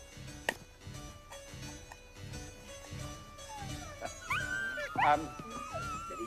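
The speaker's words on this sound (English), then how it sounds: "each dog, no matter how many thousands of miles away he may be in his particular vessel, would begin to howl" Dog howling in a recorded sequence: a rising, wavering wail builds after a quieter stretch of intermittent barking and whimpering, with the long drawn-out howl loudest near the end.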